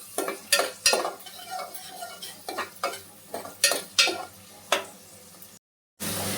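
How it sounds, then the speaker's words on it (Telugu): Sliced onions frying in a pan for drumstick curry, stirred with a utensil that scrapes and clinks against the metal about a dozen times at an uneven pace over a low sizzle, close up, ending in a brief silence. "ఆనియన్స్ యాడ్ చేసుకొని ఫ్రై చేసుకోవాలి."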